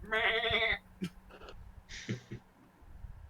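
Sheep bleating in a video game, a loud harmonic bleat near the start followed by a couple of fainter, shorter bleats.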